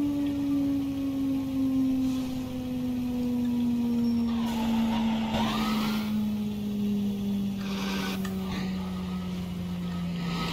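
Fire truck driving in the EmergeNYC game, a steady low engine drone with a slowly falling pitch running throughout, plus brief broadband whooshes of passing traffic or wind.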